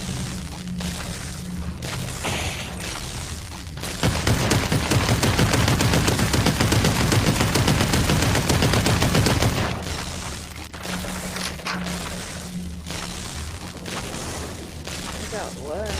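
Rapid automatic gunfire rattles loud and close in the VR shooter Population: ONE, a dense burst lasting several seconds between quieter stretches, with players talking over the scene.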